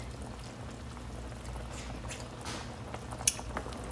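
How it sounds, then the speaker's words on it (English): Boiling cooking liquid for Haitian cranberry beans and rice (diri kole) is stirred in a pot, giving faint, steady bubbling and soft sloshing with a small clink near the end. "our liquid has come to a boil. Give it a stir."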